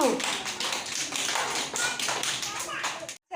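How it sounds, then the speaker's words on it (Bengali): A group of children clap their hands loudly at close range, a dense run of rapid, overlapping claps with brief voices mixed in, ending in a sudden cutoff. "জোরে হাততালি দাও"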